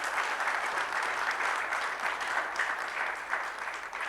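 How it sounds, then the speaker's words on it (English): An audience at an advertising panel event applauds the panelists, a dense, even wash of many hands clapping that holds steady for about four seconds with no voices over it. "I want everybody to have a huge round of applause for our fabulous panelists."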